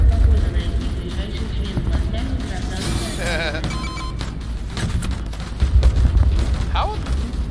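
Scattered gunshots and heavy booms in the video game Angels Fall First, a mix of sharp cracks and louder blasts over a steady background, while someone talks throughout.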